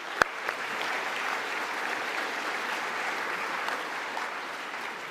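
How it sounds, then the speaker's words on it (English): Engineering students at a university welcome session give themselves a round of applause: one sharp clap up front, then steady, even clapping from a large crowd that continues at moderate volume throughout. "I think everyone here should give yourself a round of applause for being here today."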